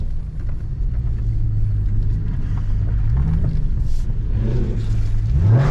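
Steady low engine rumble from a Dodge Charger R/T driven at night in sport mode with traction control off, heard from inside the car, building slightly toward a rev at the end.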